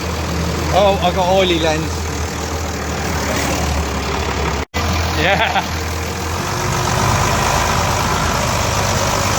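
A Bedford RL military truck engine runs steadily with a low, continuous rumble and drone, loud and close, while people talk briefly over it.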